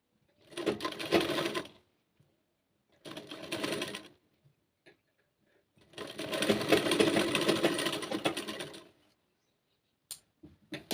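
A sewing machine runs in three bursts of rapid stitching on a kanchli blouse, a short one, a brief middle one and a longer steady run, with silent pauses between.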